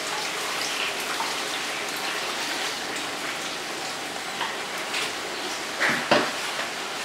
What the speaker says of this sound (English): After separate garaetteok and pour the warm water